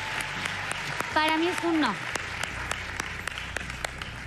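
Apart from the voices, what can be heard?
audience applause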